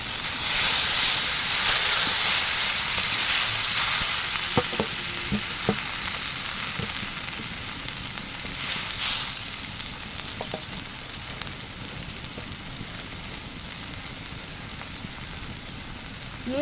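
Soya chunks, capsicum and tomato cook in a spiced masala gravy with water added, giving a steady close sizzle and bubbling hiss with a few soft stirring clicks.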